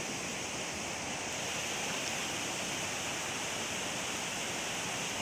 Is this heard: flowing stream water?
yes